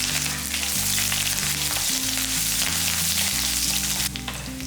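Green chilies, garlic, cumin and mustard seeds fry in hot oil in a pan for a tempering, giving a loud, steady sizzle with faint stirring and no talk.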